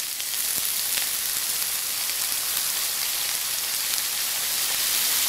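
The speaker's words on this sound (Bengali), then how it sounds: "আমি কড়াইয়ে তেল দিয়েছি তেলটা গরম হয়ে গেছে এবার আমি এই কাটা ঝিঙেগুলো দিয়েছি" Ridge gourd skins fry in hot oil in a wok, producing a dense, even hiss of sizzling that holds steady and loud throughout with no voices.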